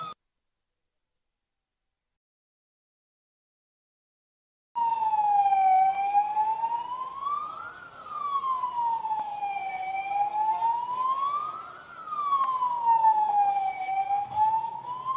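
An ambulance siren sweeps slowly up and down in a long wail after a few seconds of silence, loud and steady with rich harmonics as it passes.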